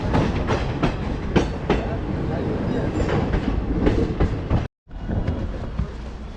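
Long-distance express train running from Kolkata towards Tarapith, heard from on board as a continuous loud rumble with rhythmic clickety-clack of wheels over rail joints, broken by a brief dropout near the end.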